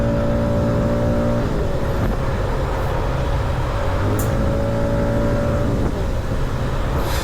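125cc scooter engine held at full throttle, a loud continuous droning whine that shifts pitch slightly as it accelerates, with wind noise and no talk.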